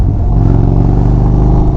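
A 2025 Indian Springfield Dark Horse motorcycle's exhaust gives a loud, deep, steady rumble heard up close while riding, a continuous low throbbing engine note with no voices.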